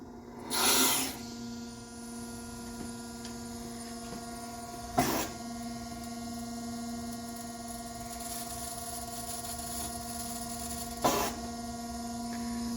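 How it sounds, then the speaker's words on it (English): A Willis Machinery hydraulic pump runs with a steady, even hum and high whine as the machine table moves, punctuated by three brief hissing bursts of hydraulic release, close and continuous with no talk. "We've had the hydraulic pump running for a little while. Now let's get the table moving a little bit."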